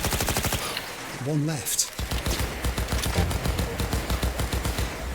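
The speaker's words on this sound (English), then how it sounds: "He's shooting his last bullets." Rapid automatic gunfire in Cyberpunk 2077, loud sharp bursts repeating quickly through the clip, with someone speaking briefly over the shooting.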